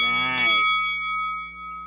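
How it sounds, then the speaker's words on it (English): A bright notification bell chime rings once, then a sustained high ringing tone lingers and fades over the remaining second. "Don't forget to ring the bell buttons for the next notification."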